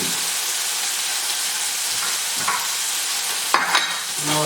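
Salisbury steak cooks in a pan over reduced heat, giving a steady, close frying hiss with a few brief stirring scrapes and pops near the end.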